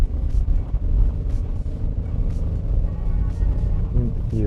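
A Peugeot 208 engine hums and rises as the car accelerates, with a gear change and a climbing tone near the end, all under steady wind and road noise inside the cabin.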